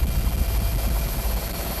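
Rescue helicopter Rescue 117 searching over the sea, a close, continuous low rotor thump and engine drone with no talking.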